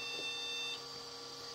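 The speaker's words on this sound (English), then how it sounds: "So we've still got the beeps" A vintage Pentium mini PC gives off steady electronic beep tones, a high pitched whine that holds throughout and drops slightly in level partway, alone with no talking.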